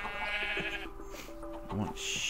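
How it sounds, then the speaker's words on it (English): Blocky Minecraft sheep bleat in a few short wavering calls, clear and close over steady game background sound, with a voice briefly talking. "Sheep, come down here."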